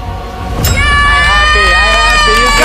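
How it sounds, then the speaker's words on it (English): Contestants cheering and shouting together in a grocery store, a loud burst of excited group yelling that erupts suddenly and holds steady. "Wait, why are you cheering?"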